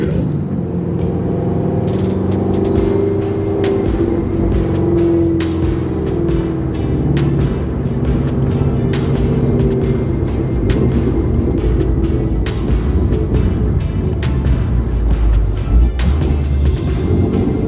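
A Ford Mustang drives along a road after a Mustang car show, its engine a steady, loud drone with tire and road noise close by, holding without pause and with no talk.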